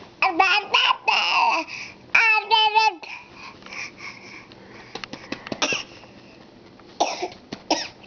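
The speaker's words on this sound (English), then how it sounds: "Why are you coughing?" Several short, raspy coughs come in bursts, close and fairly loud, mixed with a child's babbling and vocal sounds between them.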